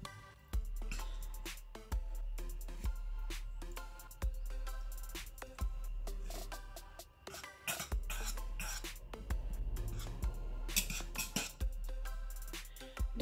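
Slime mixture stirred in a container, with repeated faint clinks and scrapes of a utensil at a steady rhythm, close and quiet, with no voices.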